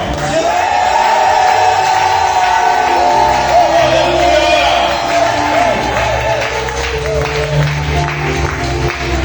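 A church congregation at a Sunday service shouts, whoops and cheers together in a dense, continuous roar that fills the room for several seconds.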